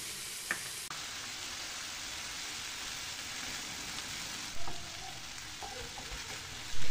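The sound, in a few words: tomato paste mixed with water added to a sizzling pan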